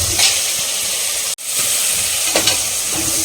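Onions sautéing in a pan for an egg masala, with a steady frying sizzle and hiss, a brief break, and a few stirring scrapes.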